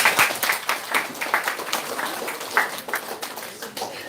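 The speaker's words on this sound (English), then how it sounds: "A clap for sir." An audience at a lecture on innovation and entrepreneurship claps for a guest speaker, with distinct individual claps in a moderate, slightly uneven patter throughout.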